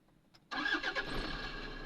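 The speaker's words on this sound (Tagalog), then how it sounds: "pandarin lang muna natin ang sasakyan na ito guys" A car engine starts after a brief quiet: a sudden cranking catch, then a steady, even idle running close by.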